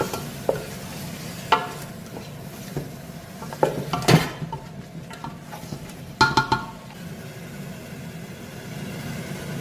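A spoon scrapes and clanks around a pot of cooking onions in irregular bursts, with a soft sizzle underneath and no talking.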